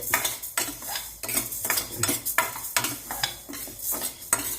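Lentils and spice powders dry roast in a pan with no oil, stirred steadily so a metal spoon scrapes and clinks rhythmically against the pan, close by, with a faint crackle beneath.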